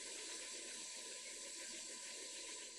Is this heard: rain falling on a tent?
no